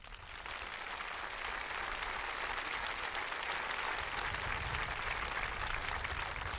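A large audience at a high school graduation ceremony applauds the administrative staff, a dense, steady wash of clapping that swells in the first half second and then holds evenly to the end with no talking.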